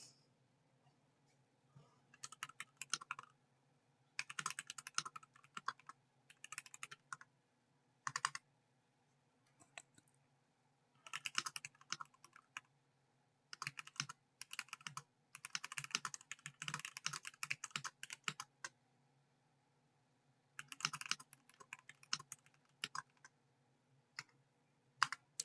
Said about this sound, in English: Sorry, I'm typing.